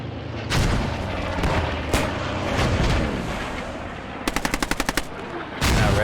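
Submachine guns rattle in a video game battle, sharp staccato bursts and single cracks near and far, including a rapid burst of about eight shots, over rumbling booms of distant fire.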